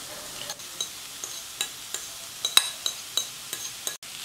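Cabbage, carrot and mashed sweet potato stir-frying in oil in a pan: a steady, soft sizzle punctuated by evenly spaced scraping knocks of the spoon against the pan, up close with no voices.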